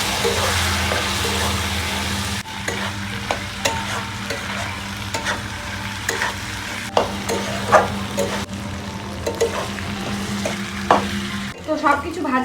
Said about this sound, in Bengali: এটাকে সুন্দরভাবে নাড়তে থাকবো, ভাজতে থাকবো এটাকে